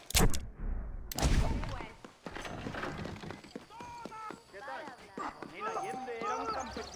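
A horse gallops in the Red Dead Redemption video game, its hoofbeats clattering in a quick rhythm after a couple of sharp gunshot-like bangs, with someone talking over the action.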